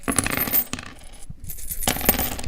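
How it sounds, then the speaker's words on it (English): Coins jingle and clink inside a zipped wallet purse as it is shaken, in close, bright bursts with a short pause midway before another rattle. "you hear this? That's in your wallet. That's coinage."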